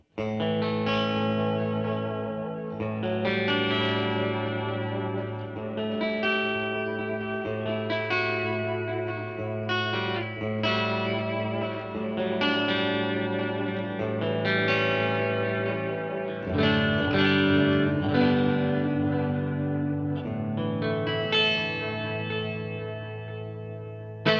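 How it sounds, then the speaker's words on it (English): Distorted electric guitar through a Donner Twin Series tap delay pedal on its analog setting plays chords and riffs with repeating echoes trailing each phrase, thick and continuous for over twenty seconds, with no talking. "let's turn on the tap delay, and I have it in the analog setting"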